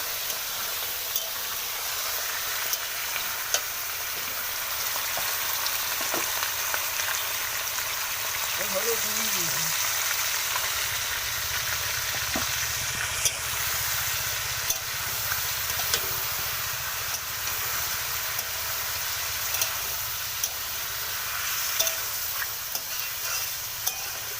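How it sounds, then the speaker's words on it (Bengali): Duck meat fries in a pan with a steady, close hiss and sizzle, stirred now and then with faint scraping and clinks, over a low background hum. "বন্ধুরা, তার মাংসটা ভেজে নেবো।"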